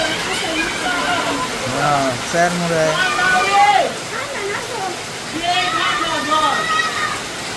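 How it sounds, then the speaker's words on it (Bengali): Heavy rain hisses steadily throughout, a dense wash of noise beneath people talking close by. "প্রচুর বৃষ্টি হইতেছে আসলে"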